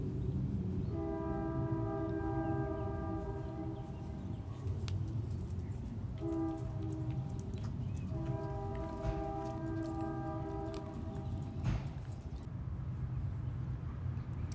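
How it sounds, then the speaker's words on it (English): A train passes nearby with its horn blowing in two long sustained blasts, the second after a short gap, over a steady rumble of rail noise; no one speaks. "And there's our daily train"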